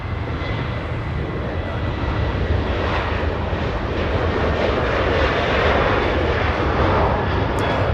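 A Delta 737 departs Los Angeles International Airport bound for Kansas City, its engines producing a sustained, fairly loud roar that builds slightly toward the end, with no speech over it.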